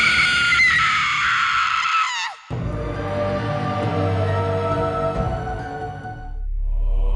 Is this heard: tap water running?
no